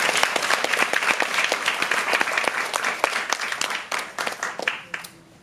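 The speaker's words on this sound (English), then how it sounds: "can we give two of them another round of applause?" Audience at a Singapore theatre show applauding, with dense steady clapping close by that thins out and fades to a few last claps at the end.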